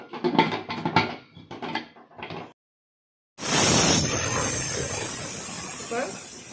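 Steam hiss from a pressure cooker cooking chana masala, a loud sustained burst that starts abruptly after a pause and slowly eases, following a stretch of talking.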